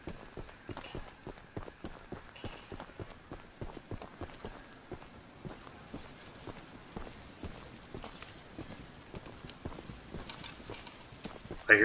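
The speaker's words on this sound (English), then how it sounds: "I hear footsteps." Steady run of footsteps in the horror game Choo-Choo Charles, rhythmic regular steps throughout, fairly close, with a faint rain-like hiss behind and no talk.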